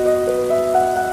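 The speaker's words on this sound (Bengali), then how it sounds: "বৃষ্টি পড়ে ঝিরি ঝিরি" Gentle drizzling rain falling steadily on a surface, a soft continuous patter with a faint sustained tonal hum running underneath throughout.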